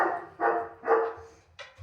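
A dog gives three short barks in quick succession during a training session, loud and close, with a brief softer yip at the end and no talking.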